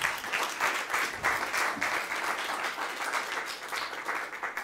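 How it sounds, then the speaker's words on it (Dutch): Warm applause from the audience at a monthly Dutch author talk, an even, steady stretch of many hands clapping with a slight rhythmic pulse and no talking over it. "En Wim van Saarloos, dus geef ze alle 3 nog een hartelijk applaus."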